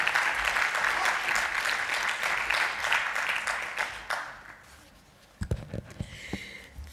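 Indoor audience applause welcomes a speaker to the stage at a mental health policy event: steady clapping for about four seconds that fades out, then a few footsteps or knocks close to the microphone.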